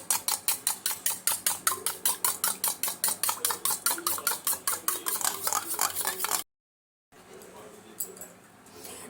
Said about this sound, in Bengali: এবার ডিমটাকে ভালো করে ফেটিয়ে নিচ্ছি।